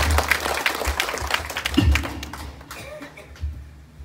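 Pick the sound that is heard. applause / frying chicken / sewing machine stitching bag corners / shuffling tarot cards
applause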